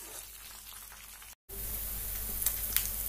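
Fennel seeds, finely chopped green chili and curry leaves fry in hot oil, giving a steady, close sizzle that cuts out briefly, then returns stronger, with a few faint pops.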